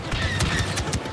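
Rapid bursts of sci-fi blaster fire in Star Wars Battlefront 2, several shots in quick succession, loud and close, with game sound effects and background music.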